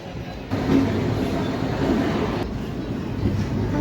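The 17410 Nanded–Adilabad Intercity Express runs through heavy rain in Maharashtra, a steady loud rumble of wheels and carriage noise with a sharp shift in the wash of sound about half a second in, no voices over it.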